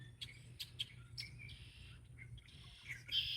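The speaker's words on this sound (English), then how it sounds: "You can hear the birds." Several birds chirp and call outdoors on a hillside, bright short tweets repeating irregularly over a steady low background hum, moderately close and fairly quiet.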